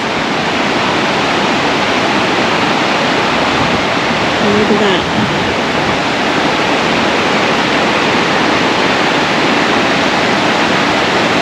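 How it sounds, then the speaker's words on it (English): Loud, constant roar of cascading water in the Porcupine Mountains fills the clip, close and unbroken, with a brief spoken remark barely surfacing over it. "there's so many more cascades and little waterfalls"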